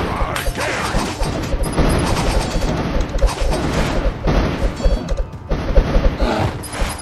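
Dense game combat from Kingdom Rush Vengeance, with rapid crashing explosions and bursts of gunfire packed together at steady loudness, a chaotic barrage that never lets up.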